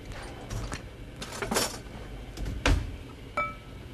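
A wine, salt and olive oil marinade being stirred in a glass bowl: scattered clinks and scrapes of a utensil against the glass, with one louder knock near the end, fairly close and quiet, with no talk.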